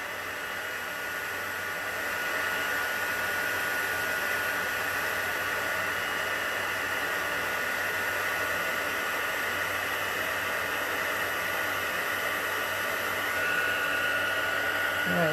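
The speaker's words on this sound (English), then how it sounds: "I don't usually have this much heat embossing to do." A heat gun used for heat embossing a card blows a constant, close whooshing roar of hot air that stays loud and unchanging from start to finish.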